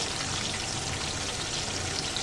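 Cauliflower sautés in a pan with salt and a little turmeric, giving a dense, even sizzle and crackle that stays loud and constant throughout, with no voices.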